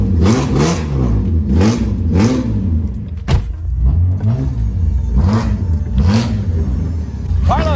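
A car engine with a straight-pipe exhaust revs repeatedly in loud, rising and falling surges, close by and steady throughout, with a brief sharp knock midway.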